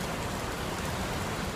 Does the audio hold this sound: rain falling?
yes